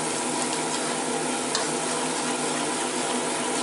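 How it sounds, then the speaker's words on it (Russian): Sauce simmering in a pan while being stirred, a steady close bubbling sizzle with soft scraping from the spoon, continuous and even throughout with no talking. "Пусть покипит немного, чтобы уменьшиться в размере."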